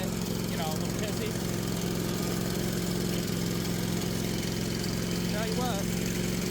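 A repaired vehicle engine idles steadily after running and driving again, a constant mid-low droning hum with a few faint squeaks, while a person talks over it.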